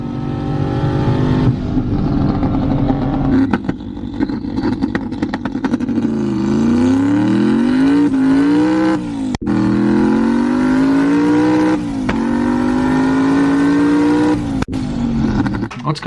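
A 1200-horsepower manual Corvette engine roars and accelerates hard, its loud tone climbing through several gear pulls with brief dips at the shifts, steady and close throughout.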